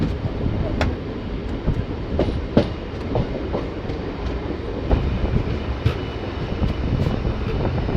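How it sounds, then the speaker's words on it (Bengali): A Rampurhat-Jasidih MEMU passenger train rolls into Dumka station with a steady rumbling roar and clattering wheel clicks, heard close and loud throughout, with occasional sharper metallic knocks over the continuous rail noise. "ট্রেন দুমকা স্টেশন এন্টার করছে"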